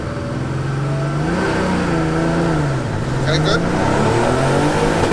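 An old-school Porsche 911 Turbo race car's engine runs loud and close, its pitch rising and falling with throttle, while people talk over it.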